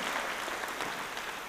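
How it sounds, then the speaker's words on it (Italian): Brief burst of steady audience clapping during an Italian cabaret comedy sketch at a rock festival, moderately loud and continuous, without speech on top. "Facciamo un applauso a sta deficienza."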